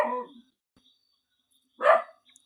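A dog barks twice, a short yelp followed after a pause by a louder single bark, fairly close with silence between.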